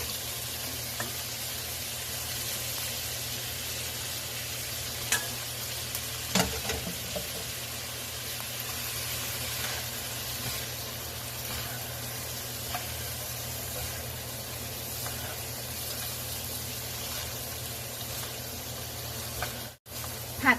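Bean sprouts stir-fried with tofu and minced pork in a pan give a soft, steady sizzle with occasional stirring clinks and faint kitchen background, fairly quiet and without speech.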